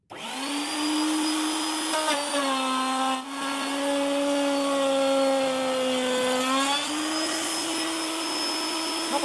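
A router spins steadily and loudly while cutting a wooden plank for a bee box frame, a sustained whine that sags briefly in pitch as it bites into the wood.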